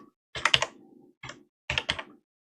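A computer keyboard is typed on in three short bursts of crisp, close keystrokes with brief silent gaps between them.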